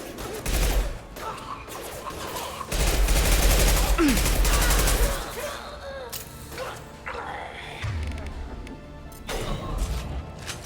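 Bursts of rifle gunfire in the Mass Effect 2 video game on Omega, rapid cracking volleys mixed with impacts and a couple of heavy booms, loud and close, with brief lulls between bursts.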